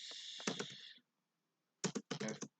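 Quick bursts of keystrokes on a computer keyboard while configuring a network switch interface, a short clattering run, a pause, then two more brisk clusters of taps, close and clear.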